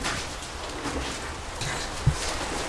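Steady rain hisses continuously, a dense wash of falling water with no voices, plus one small thump near the end.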